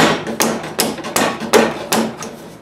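A hammer taps a metal ductwork fitting for a woodworking dust collector, striking it down to seal in six sharp, evenly paced blows, close and loud with no talking.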